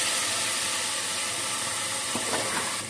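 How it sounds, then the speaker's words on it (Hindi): Boiled black chickpeas go into a pan of fried onions for chana pulao, raising a steady, close hiss of sizzling with a few brief louder crackles near the end and no talking. "अभी हम प्याज में उबले हुए चने ऐड कर देते हैं"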